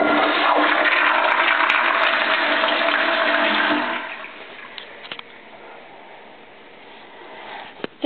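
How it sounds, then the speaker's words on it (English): A dual-flush toilet flushes on the reduced-water setting with the handle pushed up: a loud, close rush of water for about four seconds, then a quieter trickle as the tank refills, with a few small clicks near the end. "So to flush with less water, you push the handle up"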